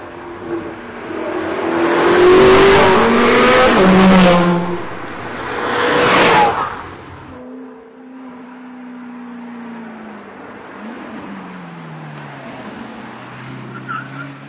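An Alfa Romeo 8C supercar engine revs and pulls away through a twisting street, a loud rising roar with sharp gear changes that swells twice, then settles into a quieter, steady drone as the car drives off.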